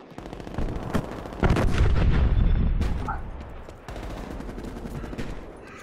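Heavy gunshots in a shooter game while snipers fire from inside buildings: a few sharp cracks, then a loud booming volley that fades out, close and punchy.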